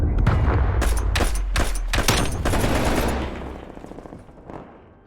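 Rapid bursts of automatic gunfire from a Call of Duty Search and Destroy match, loud overlapping volleys that thin out and fade toward the end, with no talk over them.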